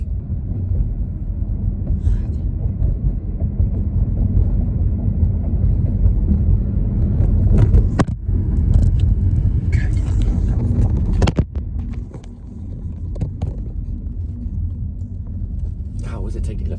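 Cars and trucks pass on a road near the Fort Worth Stockyards, heard as a continuous low rumble with wind buffeting and a few sharp clatters, under occasional talk.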